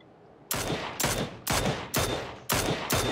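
Repeated gunfire bursts in a video game, five or six loud, sharp volleys in a steady rhythm about half a second apart, each decaying quickly, with no talk over them.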